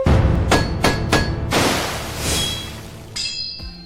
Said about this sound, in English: Hammer strikes again and again, and with that strikes, the metal becomes stronger.